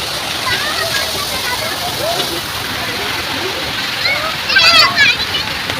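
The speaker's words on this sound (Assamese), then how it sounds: "এইটো পানী পৰি আছে, ধুনীয়া" Water falls steadily in a park in Hyderabad, a broad continuous splashing rush that sits close and fairly loud throughout, with voices, including a child's, rising briefly near the end.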